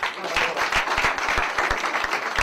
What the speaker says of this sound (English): Come and clap hands for him.